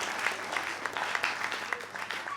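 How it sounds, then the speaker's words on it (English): Audience at a tertiary business quiz grand finale applauding the contestants, a brisk patter of many hands clapping at moderate volume, steady and continuous across the moment. "I think we should all clap for our contestants for ably representing their schools."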